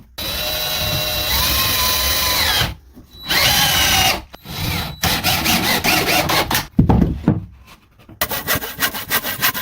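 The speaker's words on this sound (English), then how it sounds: "The wood is being connected more firmly using a drill machine so that no side is loose." A power drill drives screws into wooden boards of a plywood bed frame in a wilderness cabin, loud whirring bursts of a few seconds broken by short pauses, then rapid grinding pulses as each screw seats.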